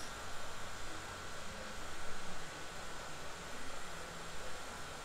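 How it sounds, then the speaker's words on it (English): Refrigerant gas flowing from a charging can into a car's air-conditioning system with the engine off, a steady faint broadband hiss that holds evenly throughout with slight swells and no voices. "And we're filling her up."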